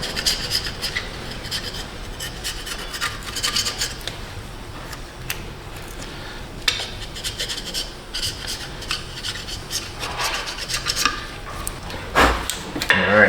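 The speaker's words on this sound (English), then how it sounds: "I better get a scraper for that. That has a little bit of corrosion on it." Hand scraper rasping corrosion off the thermostat housing of a Buick LeSabre, a steady run of close, gritty scraping strokes with a few sharper bursts near the end and no talk.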